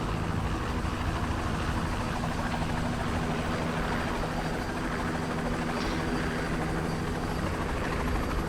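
A helicopter in the video game A Way Out gives a steady, loud rotor drone that holds without a break the whole time.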